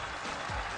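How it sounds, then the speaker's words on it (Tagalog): Brief burst of studio audience applause with cheering on a Filipino variety show, a faint, quick patter of clapping and raised voices over a noisy room. "Malakpakan na may kasamang sigawan!"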